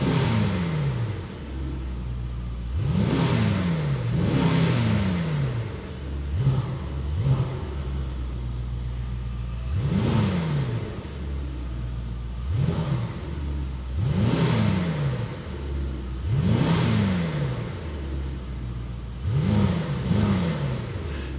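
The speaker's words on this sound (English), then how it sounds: "You can control both electric sound and also the V8 sound with" A Brabus GT930 V8 engine sound, selected through the car's sound control, revs repeatedly in short rising bursts over a steady low idle rumble, close and loud, with a brief word spoken.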